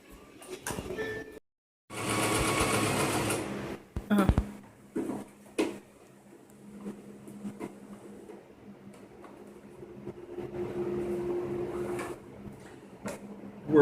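A sewing machine runs gathering stitches for dress ruffles in short, uneven bursts, with a loud stretch of stitching early on, scattered clicks and ticks, and quieter whirring between pauses.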